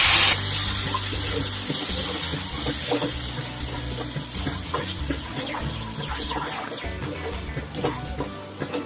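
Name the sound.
water poured into sugar in a pan for syrup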